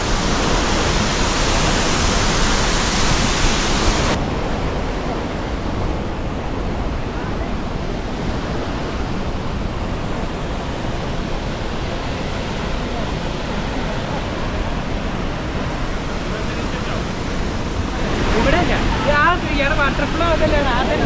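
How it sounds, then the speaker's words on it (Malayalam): Athirappilly waterfall in Kerala roars as a loud, unbroken rush of falling water, heard close and continuous with no break. "ഇവിടെ അതിരപ്പള്ളി വാട്ടർഫോളിൻ്റെ താഴത്ത് എത്തിയിട്ടിരിക്കുകയാണ്."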